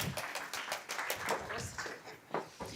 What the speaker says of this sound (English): And once again, round of applause to Vita 325.